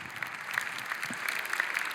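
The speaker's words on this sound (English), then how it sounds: "Please give applause to Michael and Taufan." Conference audience applauding after a panel discussion at a grassroots business forum, a short burst of steady clapping from a room of people, moderately loud and uninterrupted by speech.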